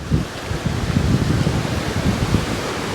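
Surf washing onto a beautiful beach, a steady broad rush of breaking waves with low rumbling swells and some wind noise on the microphone, continuous and fairly loud throughout with no talk.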